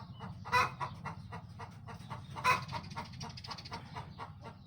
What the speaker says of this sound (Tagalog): may naghahalimhim na manok ang ingay